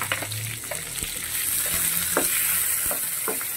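Garlic sautéing in a pan for a Filipino sinigang of lechon manok, a steady close sizzle broken by sharp scrapes and clicks of a spatula stirring against the pan.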